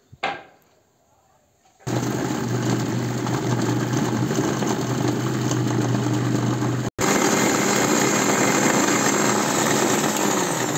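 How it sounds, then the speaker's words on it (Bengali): A mixer grinder runs loud and steady, a dense whirring drone that starts abruptly after a short quiet moment, cuts out for an instant and then resumes. "এই সবগুলিকে আমি মিক্সচার গ্রাইন্ডে দিয়ে দিলাম।"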